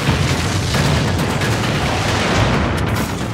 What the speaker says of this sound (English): With team support weapons like barrel bombs, which will burn your enemies alive.